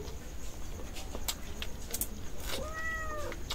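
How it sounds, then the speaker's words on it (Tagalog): A few cats meow faintly against steady outdoor background noise, drawn by grilled milkfish, with short rising calls spaced out through the stretch and no talking. "Kulit ng mga pusa eh. Kasi naamoy nila yung ano, inihaw."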